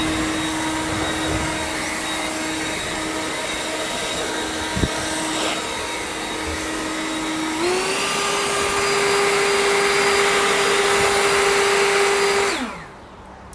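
A Ryobi 40V 730CFM Whisper Series cordless leaf blower runs with a steady, close whirring hum. It ramps up to a higher, slightly louder pitch partway through, then spins down at the end.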